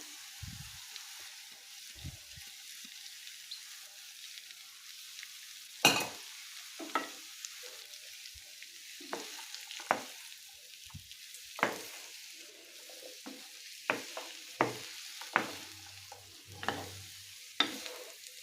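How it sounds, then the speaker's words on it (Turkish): A low, steady sizzle of onions and peppers sautéing in butter over low heat, with occasional scrapes and clinks of stirring, close and quiet. "Tekrardan şöyle kısık ateşte kavuralım."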